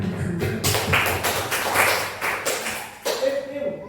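Clapping during a class session, a short burst of several claps with a rhythmic patterned feel, close and moderately loud, with a voice briefly audible at the end.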